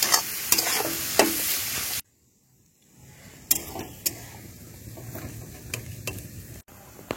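Chopped green chillies for chowmein sizzle in a pan, a loud hiss at first, then a sudden drop to quiet frying broken by sharp clacks of a utensil stirring against the pan.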